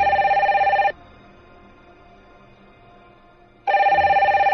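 A telephone rings with two bursts of bright electronic trilling, split by a pause of about three seconds, clear and alone with no voices.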